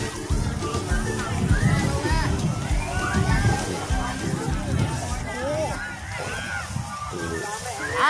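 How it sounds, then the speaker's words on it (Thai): Water sloshes and splashes amid a lively crowd of voices and children shouting at a busy shore, with someone talking close by. "นี่แหละครับบรรยากาศชายหาด"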